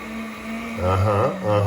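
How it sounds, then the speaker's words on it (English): A Hamilton Beach HMD 200 drink mixer spinning up to blend a tiki-bar cocktail, its loud motor whine wavering in pitch and surging twice, close and with no voices. "you can see the Hamilton Beach HMD 200. This is a weapons grade mixer."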